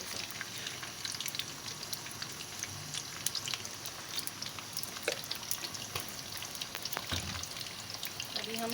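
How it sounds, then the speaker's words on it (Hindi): Frozen chicken fries in a karahi with ginger, garlic and salt, giving a soft, steady crackle and fine popping spatter that runs evenly throughout, quiet and without voices. "अभी हम सिर्फ अदरक लहसुन और नमक और चिकन डालकर पहले इसको फ्राई करेंगे।"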